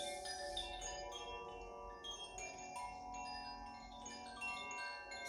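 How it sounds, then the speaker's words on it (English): Soft resonant chimes ring out during a yoga relaxation, their overlapping tones shimmering and slowly fading in a quiet room, with no voices. "Start to allow the chimes just to resonate with your subtle body"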